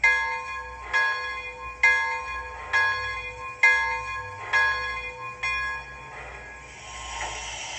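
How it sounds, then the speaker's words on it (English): A bright bell on a Proto 3 RailKing Blue Comet model train clangs in a steady, evenly spaced rhythm, six strikes ringing out clearly before fading into a softer rumble. "The bell."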